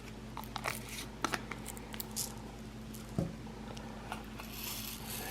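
Pelleted carrot seeds are poured and shaken in a small container, giving faint, sparse ticks and light rattling patters over a quiet background hiss.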